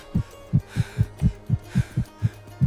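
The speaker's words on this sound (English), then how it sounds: "This accelerated heartbeat leads to rapid, shallow breathing and chaotic movements that burn precious calories." An accelerated heartbeat sound effect pulses rapidly and steadily, about ten low, thudding beats in under three seconds, close and alone over a faint hum.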